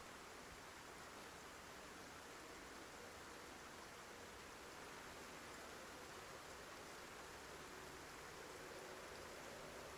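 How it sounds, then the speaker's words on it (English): Steady rain in the survival game Project Zomboid falls as a continuous, even hiss, a dense wash with no breaks, fairly faint and unchanging, heard alone with no voices. "I thought I was done with the rain, but it's actually still here. I can hear it."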